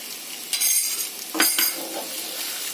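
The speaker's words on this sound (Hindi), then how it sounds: "अब हम इसे अच्छे से मिक्स कर लेते हैं" Dal filling with turmeric powder and salt being stirred in a pan on the stove, a soft scraping and clinking of spoon against metal with a faint sizzle, a couple of brief louder strokes, close and without talk.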